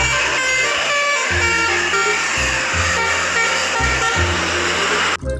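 A toy telolet bus plays its horn as a loud, continuous, repeating melodic honking tune, with rhythmic low pulses underneath and no pauses until it cuts off abruptly at the end.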